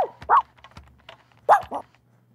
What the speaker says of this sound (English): He barks and makes adorable puppy sounds.